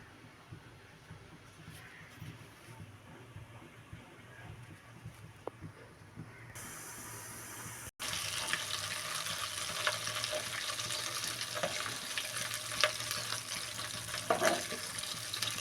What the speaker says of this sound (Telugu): వెన్న అంతా కరిగిపోయాక మనకి నెయ్యి అయితే తయారైపోతుందండి